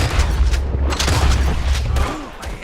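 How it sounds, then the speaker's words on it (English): Gunfire in a Red Dead Redemption II shootout: a dense run of loud, booming shots close by over a heavy low rumble, fading out toward the end. "They shot first."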